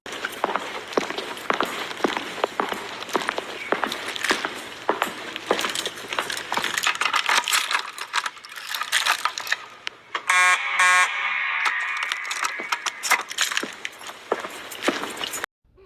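A Simplex fire alarm panel sounding for zone 7, a loud, harsh buzzing alarm pulsing continuously in a room, shifting partway through into a brighter electronic tone with rapid repeated beeps.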